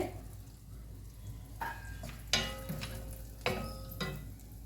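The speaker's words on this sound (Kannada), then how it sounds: "ಇದು ಕೂಡ ಗೇರು ಬೀಜ ಮತ್ತು ದ್ರಾಕ್ಷಿಯು ಫ್ರೈ ಆಗ್ತಾ ಬಂತು" Cashews and raisins frying in ghee for a wheat-flour and jaggery halwa, a quiet bubbling sizzle broken by a few sharp clicks and scrapes of stirring in the pan, with no voices.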